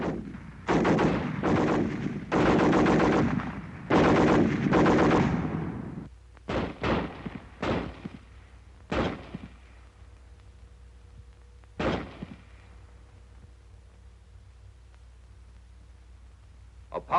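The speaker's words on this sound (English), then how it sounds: "The BAR, 80 shots a minute." Bursts of automatic fire from a Browning Automatic Rifle, several rapid strings of loud close shots followed by scattered single reports and a later isolated shot, with a quiet pause between.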